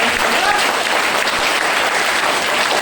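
Dense, loud applause from a crowd at a motivational speech fills the whole short stretch as a continuous wash of clapping.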